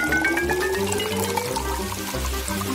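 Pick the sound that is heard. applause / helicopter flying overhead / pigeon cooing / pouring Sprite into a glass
pouring Sprite into a glass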